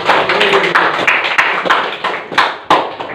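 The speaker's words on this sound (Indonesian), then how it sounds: "Tepuk tangan." Classroom applause during a lesson, a short burst of hands clapping together with uneven, overlapping claps that rise and fall in several quick waves.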